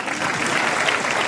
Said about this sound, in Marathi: त्यांच्यासाठी टाळ्या वाजायला